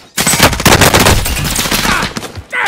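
Sustained rapid gunfire from a Call of Duty Warzone quads match on PlayStation 4, dense overlapping bursts of automatic fire filling the whole stretch, loud and close, with no voices.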